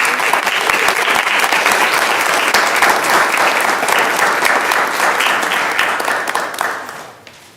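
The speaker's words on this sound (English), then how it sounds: "Another round of applause" Sustained applause from an audience at a school board of education meeting, a dense steady wash of many hands clapping at full strength before tapering off near the end, with no talking over it.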